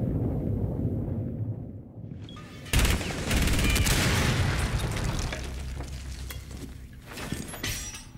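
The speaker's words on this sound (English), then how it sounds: "Somebody blew the hatch of ping." A hatch blasted open by an explosive charge in a tactical shooter game: a sudden loud boom at about 2.8 seconds, followed by sustained rumbling debris and scattered crackling gunfire-like impacts that fade over several seconds.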